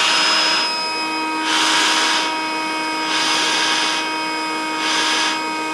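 A homemade gas mask respirator blower runs with a steady whining hum and hiss, its airflow swelling and easing in a regular rhythm like slow breaths, close and alone.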